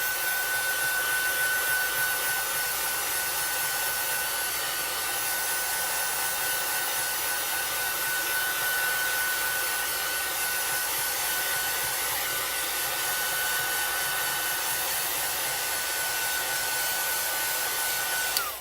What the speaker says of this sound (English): So I'm going to take the heat tool and heat this up and dry it.